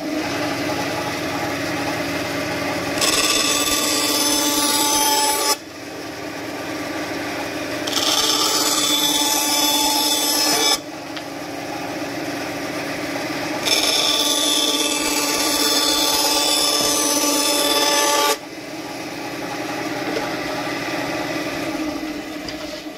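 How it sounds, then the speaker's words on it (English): A scroll saw and a bandsaw cut wood, one after the other, making a steady machine drone. Loud, high rasping cutting bursts come in four stretches over the hum. No talk. "We're going to cut it on a combination of this scroll and the bandsaw."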